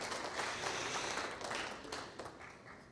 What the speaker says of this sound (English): Yes, go ahead, applaud.